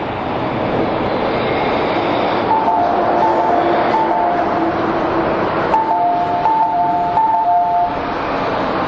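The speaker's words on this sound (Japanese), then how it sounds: "2番ホームに電車が到着します。" Osaka Monorail train pulling into a station platform, a steady loud rumble of motor and wheels with tonal whines rising and falling throughout, no talk.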